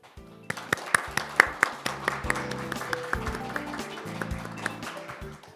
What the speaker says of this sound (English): greet and give them a big round of applause